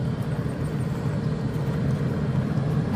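A 2020 Yanmar C50R-5A mini excavator rolls over a pile of gravel on its rubber tracks, giving a steady, close, low engine rumble with a faint rattle from the rollers and no voices.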